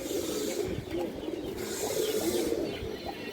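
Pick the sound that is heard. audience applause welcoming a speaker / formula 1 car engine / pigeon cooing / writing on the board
pigeon cooing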